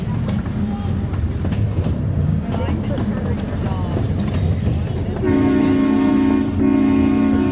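A miniature park railroad train at Vasona rolls with a steady rumble and clatter under a ride, and a sustained horn or whistle tone starts near the end, with people talking over it.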